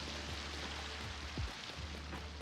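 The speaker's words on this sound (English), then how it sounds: "That rain's probably pretty loud" Rain in LEGO Fortnite falls as a continuous soft hiss, with a low rumble swelling briefly midway through.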